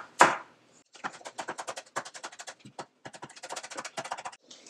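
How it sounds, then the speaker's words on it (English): A knife chopping fresh parsley finely on a board, a brisk run of close, crisp taps in quick uneven bursts after one louder opening knock, no talk. "Just a few sprigs of fresh parsley, and we're just gonna chop that up"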